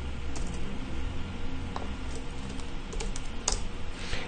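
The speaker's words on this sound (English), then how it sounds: "let's type in random now." Steady typing on a computer keyboard, a quick close patter of key clicks running continuously for a few seconds over faint background hum, with no voices.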